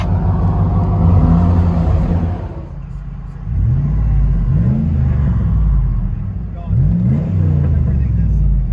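A Dodge RAM with a 4.7L V8 Magnum idles through a loud aftermarket exhaust, a deep throbbing rumble with a slight lope, heard from inside the cab, with a couple of brief throttle blips swelling the sound.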